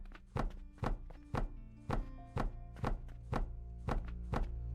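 A cannon building is placed in the factory game Alchemy Factory, giving a run of about nine dull, evenly spaced thunks, each short and solid, over a low steady hum.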